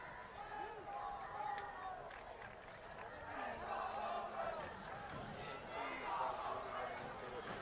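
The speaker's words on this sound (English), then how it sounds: "Crowd getting into it again." Crowd noise from spectators at a high school football game between West Springfield and Commerce, a steady roar of voices and shouts rising and falling throughout, with scattered yells on top.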